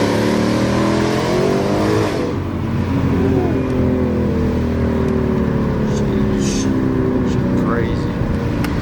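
Tuned Ford Mustang with a new intake pulls away on a test drive, its engine droning loud and steady with rising revs, while people talk over the cabin noise throughout.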